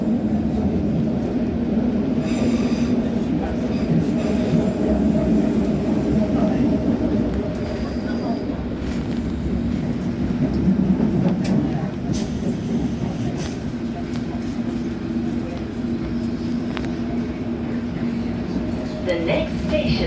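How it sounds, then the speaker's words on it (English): A London Underground train rumbles between stations with a steady, droning roar and faint rattles, while a voice speaks over the noise throughout. "Mind the gap between the train and the platform."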